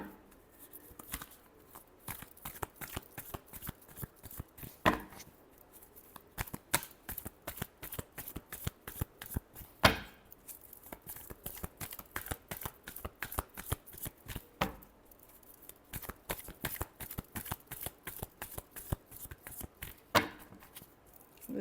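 Tarot cards are shuffled by hand at close range, quiet crisp riffles and snaps repeating in quick irregular bursts with short pauses between rounds.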